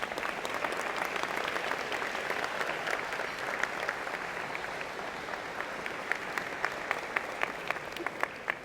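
Audience applauding at a college of engineering and computer science convocation, a broad steady wash of clapping from a large crowd lasting throughout, with a few sharper individual claps standing out near the end.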